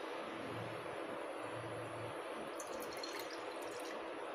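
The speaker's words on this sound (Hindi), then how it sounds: "गैस ऑन करेंगे और इसमें हम एक कप पानी डाल देंगे" A cup of water is poured into a pan on a gas stove while making gulgule, producing a soft, steady pouring hiss with no talk.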